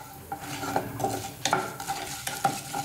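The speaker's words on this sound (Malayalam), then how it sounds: "നന്നായിട്ടൊന്ന് ഇളക്കി കൊടുക്കാം." Chana dal fries in a pan while being stirred, soft sizzling broken by repeated scraping strokes of a spoon against the pan in an uneven rhythm, close and moderately quiet with no talking.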